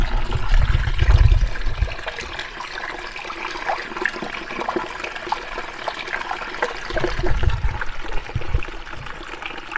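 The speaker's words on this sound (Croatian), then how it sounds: "sad ću vam ja spusti kameru da čujete kako žubori, približite skroz." A babbling mountain stream hidden under ferns, beside a high lake at 3120 m, gurgles and trickles steadily throughout, close to the microphone, with heavier low rushing swells near the start and again toward the end.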